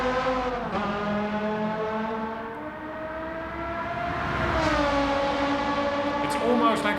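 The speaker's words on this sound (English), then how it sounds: "that whining, that howling that the engine actually does in real life." A race car engine in Gran Turismo 7 howls with a steady, tonal whine that holds, dips and climbs again as revs shift, loud and continuous throughout.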